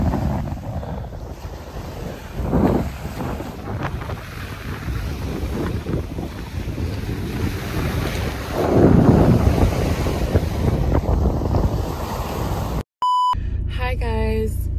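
A beach at high tide is walked, with constant wind buffeting the microphone over the roll of waves and surges swelling twice. A short electronic beep and tones cut in near the end.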